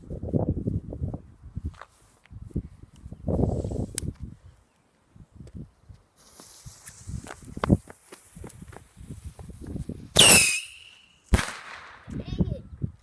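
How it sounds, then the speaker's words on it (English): Fireworks going off outdoors, with a couple of sharp, loud crackling bursts late on, after stretches of people talking nearby. "That was the fireworks"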